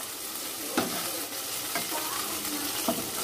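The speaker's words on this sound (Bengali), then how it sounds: "এবারে মাছের যে নিজস্ব অয়েল বেরিয়েছে তাতে একটু পেঁয়াজ লঙ্কা ভাজবো," Onion and chili frying in the fish's own released oil in a home kitchen pan, a steady close sizzle broken by three brief stirring scrapes, with no talk.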